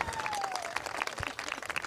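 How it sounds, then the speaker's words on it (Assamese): Applause from an audience at a live talk-show event in Kalaigaon, a sustained dense patter of many hands clapping at moderate distance, with a faint voice underneath. "ডাঙৰকৈ হাত চাপৰি দিয়ক"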